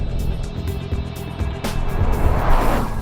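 A Bugatti Veyron Grand Sport's engine roars in a busy, rumbling drone, with short bursts and pulses suggesting throttle lifts and wastegate dumps, swelling louder toward the end.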